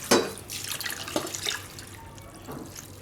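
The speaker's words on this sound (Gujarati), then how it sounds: "આની ઉપર આપણે પાણી નાખી દઈશું" Plain water poured over Maggi noodles in a clay pot, a few brief splashing gushes and trickles, soft and close.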